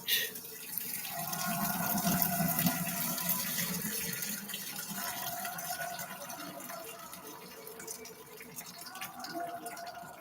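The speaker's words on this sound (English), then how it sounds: "let me drain this pasta" Pasta water being drained from a pot into a colander, a steady rushing pour and splash that holds for about ten seconds at moderate level.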